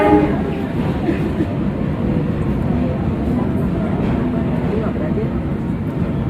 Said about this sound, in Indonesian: rangkaian kereta api Malabar.